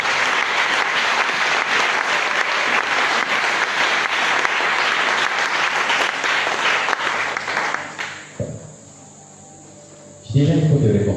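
Applause from a church congregation, a dense sustained clapping that fills the room for about eight seconds, then fades into near quiet before a louder burst of crowd noise at the end.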